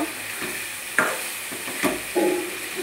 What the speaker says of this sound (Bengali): এখন আমি ভেজে রাখা মাংসগুলোকে দিয়ে দিচ্ছি। ভালোভাবে নাড়াচাড়া করে নেব।